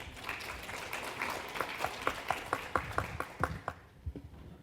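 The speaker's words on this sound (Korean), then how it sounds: "큰 박수로 맞이해 주시기 바랍니다." A conference audience at a Rural Development Administration presentation claps, with scattered, distinct hand claps building to a moderate patter before quickly tapering off to quiet.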